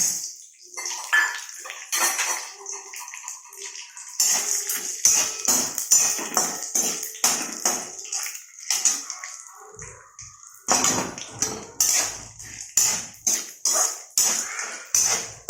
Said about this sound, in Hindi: अभी इसमें हम शेंगदाना डाल देते हैं, कड़ी पत्ता और दाल।